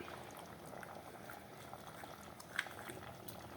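Navratan kurma with paneer and cream simmering in a pan, a faint, steady bubbling and soft popping heard close up, with one small louder pop partway through.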